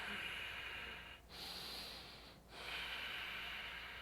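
Slow, steady breathing during a yoga pose, two soft breath cycles with airy hiss and brief dips between them, close and fairly quiet.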